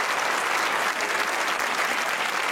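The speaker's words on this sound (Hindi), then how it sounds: "अच्छी बात है, ताली बजनी चाहिए।" Steady, dense audience applause fills the room evenly for a couple of seconds, loud and continuous without any breaks.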